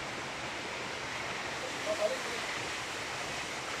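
Strong water rushing at a village water supply in Barangay Pangpangon, a steady, dense roar that holds evenly from start to finish with only a slight swell midway.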